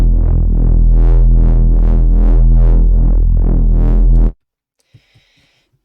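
Wonky Reese, a Reese bass synth, throbs loud and alone in a wobbling pattern of swelling bright peaks over a heavy low drone, stopping abruptly, then a few faint clicks follow.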